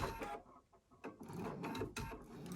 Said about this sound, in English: So I just put it on there and I'm just going to stitch around.